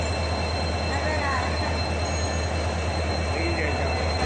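A train rumbles steadily at Renigunta railway station, a continuous loud drone with faint metallic squeals and distant voices mixed in.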